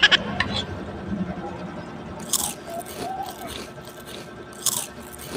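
Crunchy food chewed close up, a few sharp crisp bites breaking through a low, steady background.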